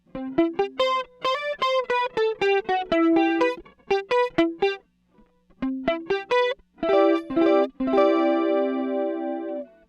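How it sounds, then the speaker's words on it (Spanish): Electric guitar played through the chorus effect of a Boss GT-1 pedal for bachata, with bright plucked notes and quick runs, short pauses, then sustained strummed chords ringing out near and clear. "Y entonces ya aquí entramos al parámetro de chorus."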